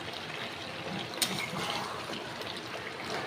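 Water pours into a cooking pot of browned, sautéed chicken curry, making a soft, steady trickling rush with one brief splash, fairly quiet and close.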